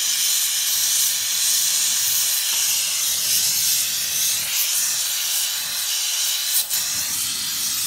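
A torch flame hisses loudly and steadily while heating a thin stainless-steel exhaust compensator from a ship, with a constant roaring hiss that wavers slightly and gives one brief sharp flare near the end.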